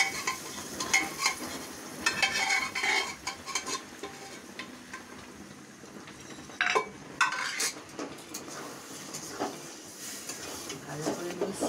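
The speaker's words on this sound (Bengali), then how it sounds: "ভালো করে মিশিয়ে নেবো ডালটা।" Boiled lentil dal being stirred into a pan with a utensil, steady scraping and clinking against the metal over a soft sizzle, close and moderately loud throughout.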